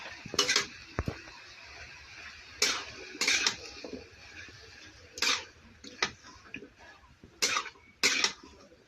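A spoon stirs ginger-garlic, cumin and chili paste in a pan, with repeated metallic scrapes and clinks in short bursts, close by, over a quiet background.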